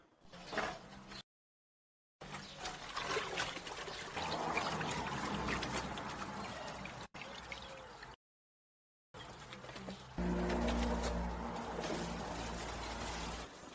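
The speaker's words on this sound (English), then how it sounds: "Periodically, it should be dipped in water." Heated wooden whiskey barrel being dipped in water: a long, steady trickling and pouring wash with brief breaks, then a louder, fuller rush of water near the end.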